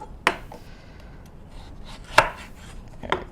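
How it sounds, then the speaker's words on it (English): A knife cuts a carrot or cucumber in half on a board, three sharp separate chops spaced about a second apart, close and crisp against quiet. "And then I'm gonna cut it in half right here."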